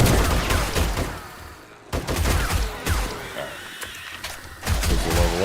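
Armor-piercing rounds fired in a survival horde-base video game, rapid bursts of gunfire repeating in clusters with brief pauses, loud and close, while people talk over the shots.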